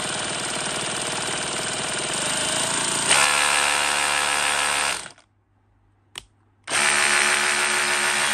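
A Bosch GBH18V-26 brushless 18V cordless rotary hammer, German-made, runs loud and steady for about five seconds, shifts pitch midway, stops with a brief blip, then starts up again at full power, with no talk.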